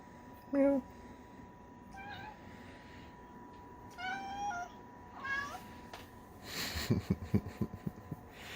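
A domestic cat meows several times at close range, each call short and spaced apart, and the last burst breaks into rough, snorting, wheezy sounds.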